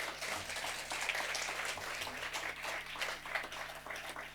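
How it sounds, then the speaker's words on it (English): An audience at a talk on cooperative enterprise gives a round of applause, a faint, distant, continuous patter of many hands with a low steady hum beneath it. "So don't you want to give a clap for the great Tata Sahebs?"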